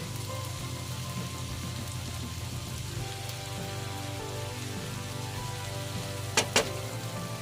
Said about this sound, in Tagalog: kailangan maluto muna yung sibuyas